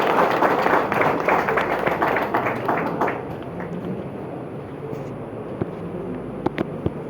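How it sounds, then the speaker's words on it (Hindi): Audience applause for Santosh at a real estate training program, a dense burst of many hands clapping that starts loud and gradually thins out, with scattered claps trailing off near the end. "दोस्तों एक बार जोरदार तालियां संतोष के लिए।"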